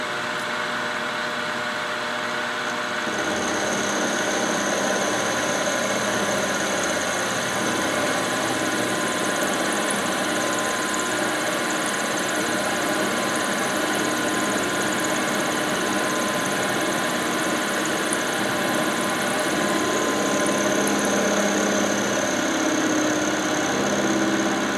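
A lathe takes a shallow 25 thou cut on metal with a cheap radius ball turner cutter, giving a loud, steady mechanical drone with a faint high whine that carries on unbroken throughout.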